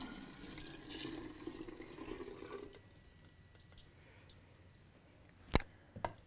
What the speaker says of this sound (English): So I'm gonna go ahead and pour it into a jar, a measured jar